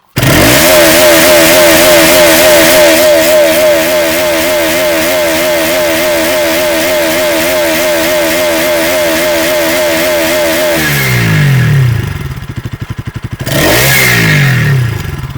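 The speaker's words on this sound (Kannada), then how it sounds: "ಈ ಸೌಂಡ್ ಯಾವ ತರ ಇದೆ ಅಂತ ಬನ್ನಿ ಕೇಳಿಸ್ತೀನಿ" A Bajaj Pulsar NS200 motorcycle engine revs hard and loud at close range, holding a steady high, buzzy rev for about eleven seconds. It then drops to a rough idle and surges again in a second short rev burst.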